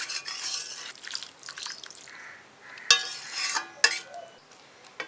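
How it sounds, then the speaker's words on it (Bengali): Water poured into a pan of taro and potato curry being sautéed with spices, heard as faint splashing and sizzling with a few sharp metallic clinks of utensils against the pan, with no talk. "এবার সিদ্ধ হওয়ার জন্য একটু জল দিয়ে দেব।"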